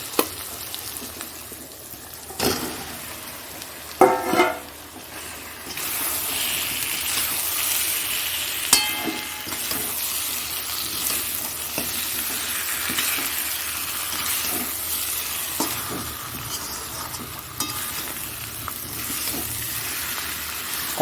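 A few clanks of a utensil, then a loud, steady sizzle as chicken is stirred and fried in a hot pan, with occasional scraping.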